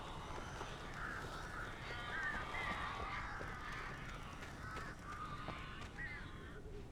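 Crows caw in Alan Wake Remastered, several harsh calls scattered over a dense, noisy forest ambience, moderately distant and repeating irregularly throughout.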